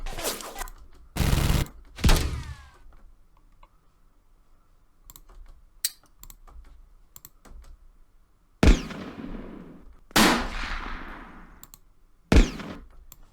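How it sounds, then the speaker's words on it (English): Magnum gunshot sound effects play one after another: several loud, sharp cracks, each with a decaying tail. Two come close together, then a long quiet gap, then three more spaced shots. "So I myself, I kind of like these magnum shots here."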